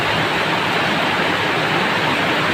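Heavy, unbroken rain pouring down amid deep floodwater at night, a loud, dense roar of water filling the whole clip with no break.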